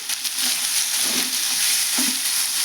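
Bitter gourd pieces fry in a pan with a steady broadband sizzle, broken by a few soft stirring scrapes, close and continuous with no talk.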